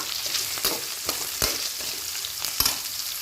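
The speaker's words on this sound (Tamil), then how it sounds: "இன்னொரு 5 மினிட்ஸ் இதே மாதிரியே எண்ணெயிலே நல்லா வதக்கிக்கலாம்." Ivy gourd sautés in hot oil with a steady close sizzle, broken by a few sharp scraping strokes of a stirring spoon across the pan.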